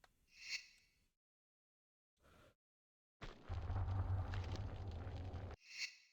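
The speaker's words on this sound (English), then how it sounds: "Well, now I'm just wasting my grenades." A grenade explosion in the video game Tomb Raider gives a loud, rumbling roar lasting about two seconds after a silent gap, framed by shorter, breathy bursts of sound before and after.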